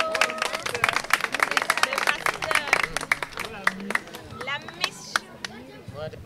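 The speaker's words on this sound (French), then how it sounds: "Qu'on applaudit très fort, s'il vous plaît." A school audience in Dougoï, Maroua, claps loudly in quick, dense, uneven bursts, with crowd chatter and voices mixed in through the whole stretch.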